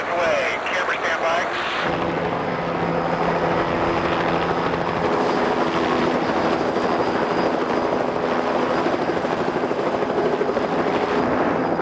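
Steady, loud helicopter rotor and engine drone holding throughout, with a brief different sound at the very start before the constant roar sets in.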